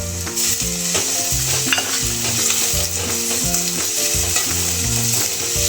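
Sliced onions and chopped tomatoes sizzle loudly in hot oil for Kathiyawadi khichdi, a steady dense frying hiss with faint scraping as they are stirred, close up and continuous.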